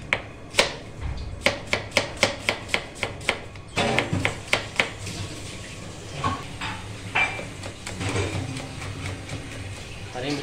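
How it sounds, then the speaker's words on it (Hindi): Knife chopping onions on a board for a mutton karahi: a rapid run of about a dozen crisp, evenly spaced chops close by, followed by looser, irregular cuts mixed with light kitchen clatter. "प्याजों को भी हम इस तरीके से काट लेंगे।"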